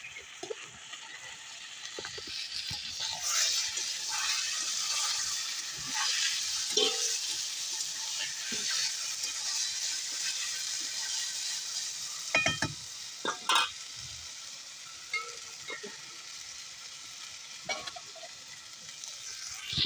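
Ginger, cumin, onion and coriander paste frying in leftover oil for a rohu fish curry with potato and cauliflower, a steady close hiss with occasional spatula scrapes and clicks.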